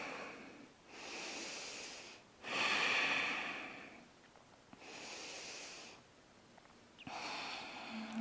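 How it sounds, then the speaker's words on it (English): Slow, deep yoga breathing in twisted pyramid pose, breathing against restriction around the navel: several long, soft breaths in and out, close and fairly quiet, with no one talking. "breathing here against the restriction around the navel"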